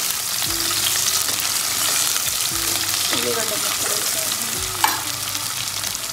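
Green chillies and onion pieces fry in a hot pan with a steady, loud sizzle, broken by a few low clatters as the spoon stirs them around; no one speaks.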